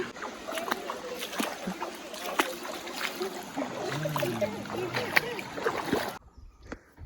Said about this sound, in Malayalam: ഇതായിരിക്കും നമ്മുടെ ധോണി വാട്ടർഫാൾസ്